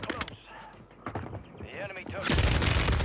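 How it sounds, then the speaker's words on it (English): A burst of rail-weapon gunfire in an online shooter game: a few sharp shots early on, then a sustained, loud, noisy volley near the end, with a player's voice talking over the game sounds. "I missed a bunch of shots there."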